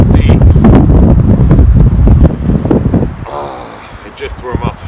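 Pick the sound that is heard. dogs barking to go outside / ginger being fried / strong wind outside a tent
strong wind outside a tent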